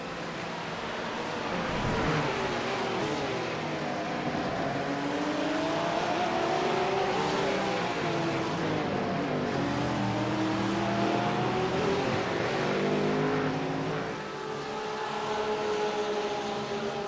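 Ford Mustang race cars in a racing game give a continuous, loud engine roar with rising and falling revs as they accelerate and shift, several cars blending together without pause.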